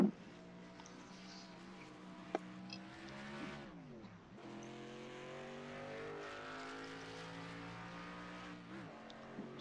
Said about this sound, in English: So we are in the 86 Camaro, the 86 U.S. Navy Camaro.